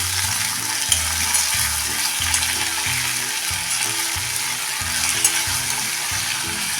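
Chopped tomatoes for a South Indian tomato chutney sizzle loudly in a pan, close up, with a continuous hiss broken by rhythmic stirring scrapes.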